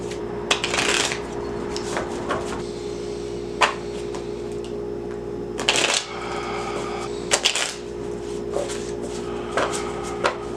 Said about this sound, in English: Now we shuffle 3 times.